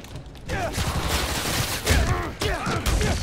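Gunfire in the Marvel's Spider-Man: Miles Morales video game, a dense burst of overlapping shots under game effects, with voices talking over parts of it.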